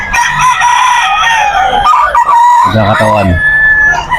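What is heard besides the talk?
Dominique stag rooster crowing at pet market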